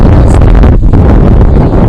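Strong wind roars and buffets the microphone on a pond bank while fishing, in a loud, continuous rumble with gusty fluctuations.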